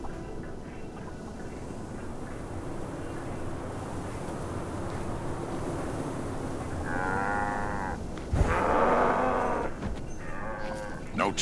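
A cow launched from a Cowtapult in Guild Wars 2 lets out a couple of drawn-out moos over constant ambient game noise, with a sharp thump before the louder final moo.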